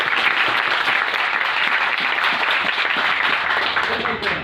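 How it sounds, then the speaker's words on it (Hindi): An audience claps loudly for a speaker at an Indian public talk, a dense, steady wash of applause that fills the moment and fades slightly at the end. "एक बार जोरदार ताली बजाइए सर के लिए।"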